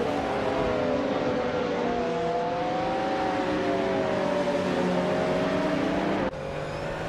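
Racing engines roar in a driving game, led by a 1997 Acura NSX SCCA car, a loud steady whine with shifting pitch that drops abruptly near the end, continuous and close with no voices.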